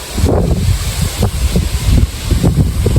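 Steady, loud roar of wind buffeting a microphone outdoors in a vegetable garden near a pine tree, gusting and rumbling continuously with no voices.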